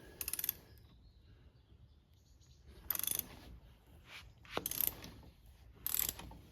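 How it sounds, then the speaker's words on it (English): A spring clamp on a Porsche 911 996 suspension strut is released, giving several bursts of ratcheting clicks with quiet gaps between them. "now what I'm going to do is release this clamp in a way which hopefully puts it all back to where it was"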